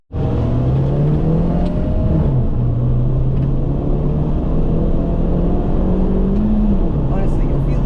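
A Mini Challenge Clubsport race car rolls around a corner on the Knockhill track, its engine droning steadily and loudly from inside the cabin, the pitch dipping and climbing through the turn.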